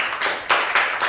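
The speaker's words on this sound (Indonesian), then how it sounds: "Tepuk tangan mereka berdua." A short burst of classroom applause for two students, a few hands clapping in quick, uneven rhythm, close and fairly loud.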